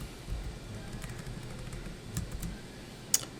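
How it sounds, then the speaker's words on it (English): Keys tapped on a computer keyboard while entering a value into a compound interest spreadsheet: a few soft, scattered clicks over a low room hum, with one sharper click near the end. "Let's just type it in."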